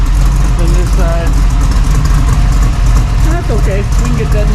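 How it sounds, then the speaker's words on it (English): A 1968 Chevrolet Nova Super Sport idles with new Flowmaster stainless steel mufflers, giving a loud, deep, continuous exhaust rumble close by while someone talks over it. "I've got a new sound and a couple new mufflers on the car"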